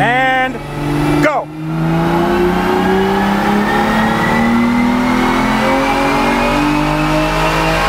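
Engine of a cheap used exotic car revs to about 3,000 RPM, then surges into hard acceleration, a loud sustained rising roar that climbs steadily in pitch after a brief dip, close up and continuous.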